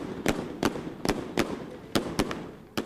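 Sharp firecracker bangs pop off at irregular intervals, about eight loud cracks over a steady outdoor crowd murmur at the Lam Tsuen wishing tree in Tai Po, Hong Kong.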